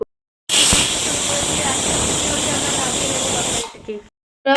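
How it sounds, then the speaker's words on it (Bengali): A pressure cooker holding ridge gourd and potatoes vents steam in a loud, continuous close-up hiss lasting about three seconds before cutting off abruptly. "এবার ঢাকনিটাকে আটকে সিটির জন্য ওয়েট করতে হবে"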